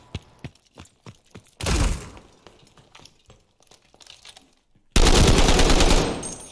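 Gunfire in Call of Duty Vanguard during a Search and Destroy round: a string of sharp single shots, then two loud bursts of rapid fire with crashing impacts, close and with no talking.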